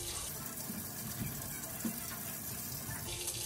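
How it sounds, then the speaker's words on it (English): Water runs steadily from a kitchen tap while a bowl is rinsed during meal prep for pepper steak, a soft, even splashing stream throughout with a few small clinks, and no voices. "So I rinse my bowl out."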